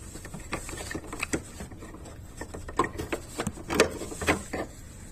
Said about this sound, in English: Push outward gently to flex the clip and pop the cover off.